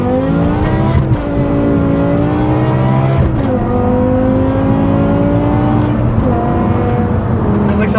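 A BMW M6 V10 with an F1 exhaust accelerates hard, its high engine note climbing in pitch and dropping sharply at each gear shift, loud and close throughout.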